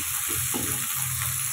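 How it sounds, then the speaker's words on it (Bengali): Sliced tomato and onion frying in a pan, a low steady sizzle with faint stirring scrapes, close and quiet, without any voices. "একটু নাড়িয়ে চাড়িয়ে আমি ভালো করে ভেজে নেব"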